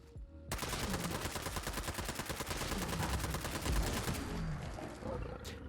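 An RPD machine gun with a 100-round magazine fires a long, unbroken automatic burst at a Deathclaw in Fallout 4, with loud, rapid, evenly spaced shots that run for about five seconds before cutting off.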